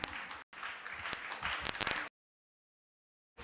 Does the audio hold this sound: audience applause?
yes